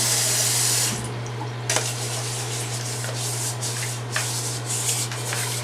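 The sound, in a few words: scrubbing the rice cooker inner pot under a running tap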